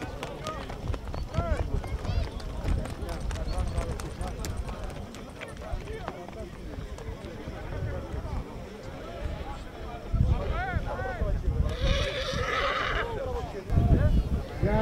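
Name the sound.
horse neighing and hooves at a horse show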